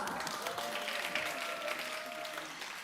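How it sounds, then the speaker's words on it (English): Audience applause at a school English speaking contest in Ulsan, a steady broadband wash of clapping holding at an even level throughout, with a faint sustained tone running underneath. "Please give them another round of applause."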